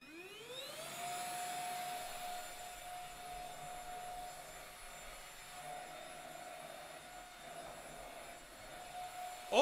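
A household vacuum cleaner whirs up to speed and then runs steadily at close range with a sustained high whine, uninterrupted and without any talking.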